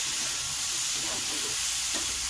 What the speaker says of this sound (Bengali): এবার জল ঝরানো একটু খালা আলু দিয়ে ভালো করে নেড়ে চেড়ে